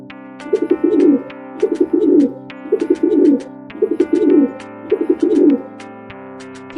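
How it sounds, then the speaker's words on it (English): A pigeon coos in repeated soft throaty bursts, five rolling phrases in a steady rhythm, close and clear over light background music. "pigeon pigeon."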